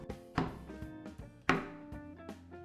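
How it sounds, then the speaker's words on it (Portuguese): A knife cuts through a bar of chocolate on a board, giving a few sharp, close chopping knocks spaced irregularly, with two louder cuts standing out among softer ones. "Eu vou cortar porque fica mais fácil para picar."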